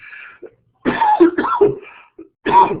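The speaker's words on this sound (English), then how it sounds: "excuse me for that cough" A person indoors coughs and clears their throat in several close, loud bursts separated by short silences, with a faint softer voice-like sound at the start.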